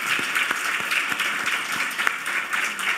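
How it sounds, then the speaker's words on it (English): An audience applauds board and support-committee members as they stand, a steady wash of many hands clapping at fairly close range, with sharper individual claps popping out of the dense patter throughout. "please stand up and we'll give you a little round of applause"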